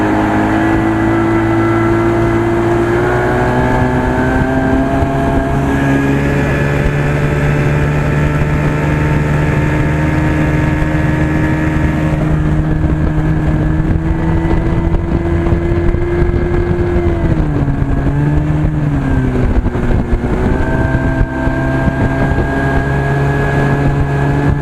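A 1983 Evinrude 25 hp outboard motor drones loud and steady on a 16-foot Starcraft boat well below full throttle, its engine pitch rising and dipping with the throttle under buffeting wind noise, with no talking.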